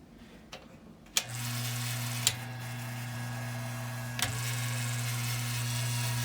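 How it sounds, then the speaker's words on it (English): A vintage Lasko Breezemaker box fan runs steadily with a low hum, joined by a light rattling and a few sharp clicks from the housing, close by and without talk. "There's a little bit of a rattling."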